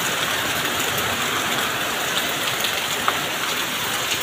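Steady, dense rainfall hisses evenly throughout, a continuous wash of drops with one small sharp tap near the end.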